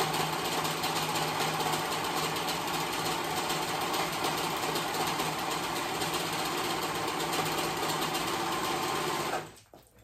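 A sewing machine stitches poncho fabric in one steady, loud, continuous run, the motor whirring evenly until it stops abruptly just before the end.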